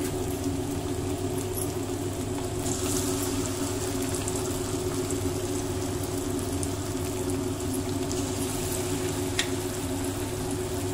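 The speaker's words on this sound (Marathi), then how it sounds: "स्लो करूनच सगळे तळून घ्यायचे." Vegetable Manchurian balls frying in oil on a low flame, a continuous soft bubbling sizzle over a steady low hum, with no voices.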